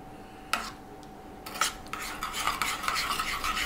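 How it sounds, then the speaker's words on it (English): A spoon stirs coleslaw dressing seasoned with pepper and salt in a bowl, making close, soft scraping strokes that grow into steady mixing. "all we need to do is give this a mixing up. Just mix it all up, nice and smooth."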